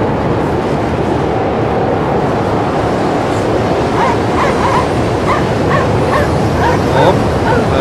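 Dogs bark in the video game Anabiosis: Dream of Reason, a series of short, fairly distant barks repeating through the second half over a steady, windy background hiss.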